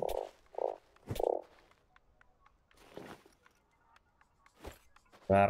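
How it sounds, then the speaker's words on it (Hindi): Frogs croak in the survival video game Starsand, three short buzzy croaks close together at the start, then quiet game ambience with light footstep-like taps and a sudden loud burst at the end. "मेंढक मेंढक"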